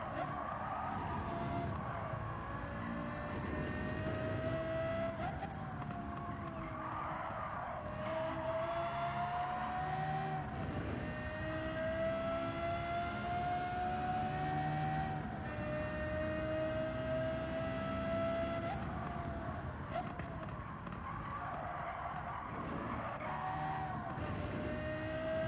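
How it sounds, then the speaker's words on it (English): Race car tires screech and skid in Gran Turismo 7 at Deep Forest, a sustained rising and falling squeal over a steady engine roar, loud and continuous for the whole stretch. "You hear the tires screeching. Just skidding."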